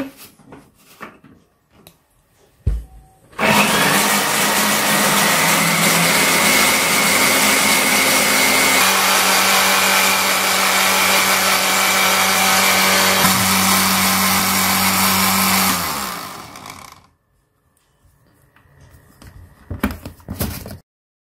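An electric blender whirs loudly and steadily for about twelve seconds while mixing a homemade preparation, starting abruptly and cutting off, with quiet handling noises before and after.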